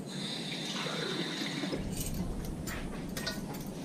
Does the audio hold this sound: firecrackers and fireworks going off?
no